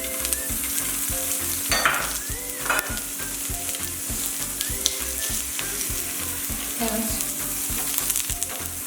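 Capsicum, baby corn and onion rings for a paneer shashlik sizzler frying in a brushed, oiled pan, a loud continuous sizzle close up with occasional stirring scrapes and no talk.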